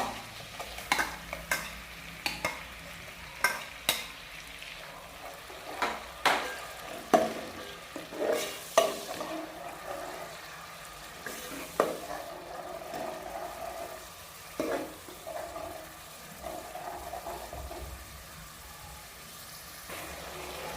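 Garlic paste fries in butter in a pan with a steady sizzle and repeated stirring scrapes and clinks, fairly close, no voices.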